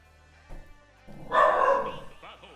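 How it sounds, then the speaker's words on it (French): A dog barks in a noisy venue at a Super Smash Bros. Ultimate tournament, a burst of short barks rising over a low hum after a couple of quieter thumps, with people talking nearby. "y a un chien qui aboie"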